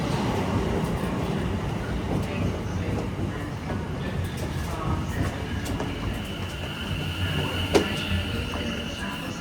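A Southwestern Railway Class 701 Arterio electric train heading towards Epsom, heard as a steady, fairly loud rumble of wheels and running noise with a faint high whine and a brief click near the end, no talk.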